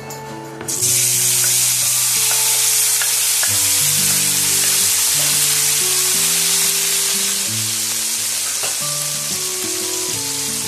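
Black cumin seeds and chopped tomato fry in hot oil for a spicy sarpunti fish curry, giving a loud, steady sizzle throughout, with stirring noises and a tonal hum running underneath.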